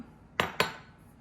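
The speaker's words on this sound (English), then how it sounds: "give that a little mix." A utensil stirs sourdough starter and water in a container, giving two sharp clinks against the side about a fifth of a second apart. Both are close, and no one talks over them.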